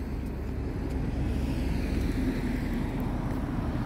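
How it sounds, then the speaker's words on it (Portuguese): Cars pass on a coastal road in Torres, Rio Grande do Sul, on a cold, windy night, a steady low rumble of traffic that holds at a moderate level throughout with no talk. "Alguns carros."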